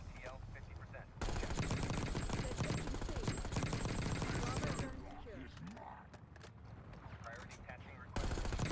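Rapid gunfire rattles in dense bursts in the Black Ops 6 video game, aimed at an aircraft overhead. Loud sustained volleys drop away to a quieter stretch of scattered mechanical clatter, then resume abruptly.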